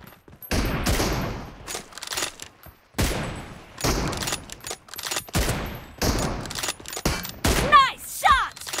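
Sniper rifle fire in a team deathmatch video game: loud, sharp shots ring out in separate bursts with short gaps, mixed with game sounds and some voice.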